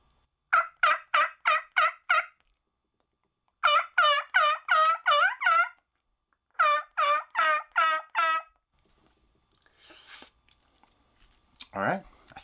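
Three quick runs of imitated turkey yelps on a turkey call, a hen's higher calls and then coarser jake or gobbler notes, clear and close, followed by faint rustling and a brief low sound.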